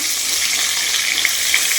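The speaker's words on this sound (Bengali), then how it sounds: "এখন এই যে মাছ ভাজছি" A dense, continuous sizzle of fish frying in oil, close up, with a few brief pops and crackles over the steady hiss.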